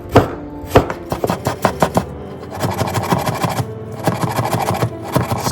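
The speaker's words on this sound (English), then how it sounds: "chop the ginger" Ginger being finely chopped with a knife, a fast steady run of crisp, close blade taps on a board that speeds into dense continuous chopping.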